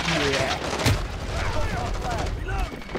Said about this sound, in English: Having fun with shotgun.